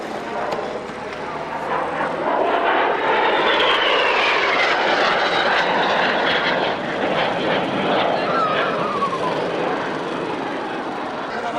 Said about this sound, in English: little jet aeroplane like this